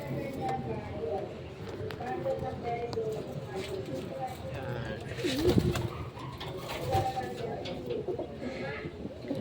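Pigeons kept as backyard birds coo repeatedly, low and fairly close, over an ongoing hum of background noise, with people talking intermittently.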